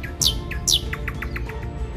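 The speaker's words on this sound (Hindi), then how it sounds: "रोशन सुबह की नवीद सुनाते ये चहचहाते परिंदे" Small birds chirp in the morning outdoors with loud, close, bright tweets, two sharp calls followed by a quick run of shorter chirps over a soft background hum.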